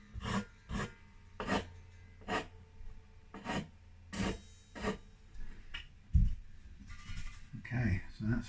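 Repeated rasping strokes of a metal file rounding off guitar fret ends on a Harley Benton Tele, about a dozen short scrapes in an uneven rhythm, close up, with faint talk toward the end.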